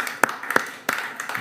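Scattered, spaced-out hand claps from a church congregation at a Sunday service, a few distinct claps in a slow, uneven rhythm over a faint roomy background.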